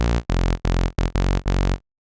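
Default patch of the Vital synthesizer, a bright buzzy saw tone played as five short, loud notes in quick succession with tiny gaps, ending abruptly in silence; no voices.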